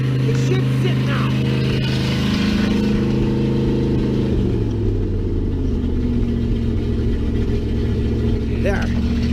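An old Mercedes engine, its revs dropping to a steady idle after being held high, runs close by in a continuous low hum with a pitch shift partway through, and a person talks over it.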